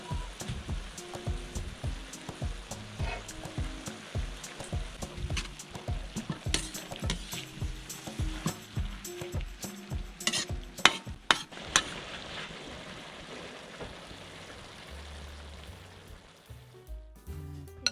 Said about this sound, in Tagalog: si Jinky naman ay magluluto naman daw siya ng kanyang stir fry pak choy in oyster sauce